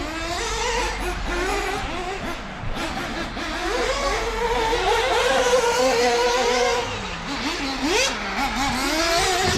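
An Arrma Typhon RC car tuned by TLR driving on a track, its electric motor whining and rising and falling in pitch as it accelerates and brakes hard, loud and close for the whole stretch.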